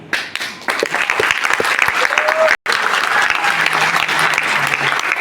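Audience applause at a public speech by Crown Ambassador Ramveer Singh, steady dense clapping from a large crowd, loud and sustained across the clip with a brief break midway.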